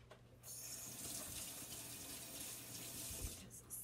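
Tap water gushes steadily into a kitchen sink while food is rinsed under it, a close, continuous hiss after a brief start, with a low hum beneath and a soft knock near the end; no voices.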